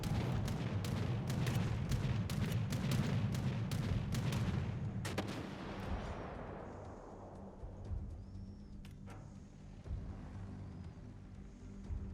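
Warship artillery in World of Warships booms in rapid repeated salvos, heavy and dense at first, then thinning to scattered distant shots as the barrage fades.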